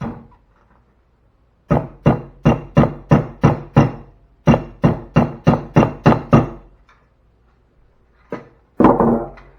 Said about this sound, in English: I'm going to hammer this one in to save time.